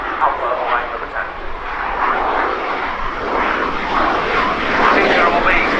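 Saab JAS 39 Gripen of the Swedish Air Force at an air display at RIAT 2017, flying a slow high-alpha pass; a steady, loud broadband engine roar runs throughout with slight swells, with voices talking over it.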